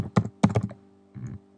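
Keys tapped on a computer keyboard while a host name is entered, two quick bursts of clicks followed by a pause and a softer final cluster, close and clear with no talk.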